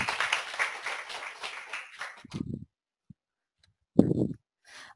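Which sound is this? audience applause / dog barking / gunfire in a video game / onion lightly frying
audience applause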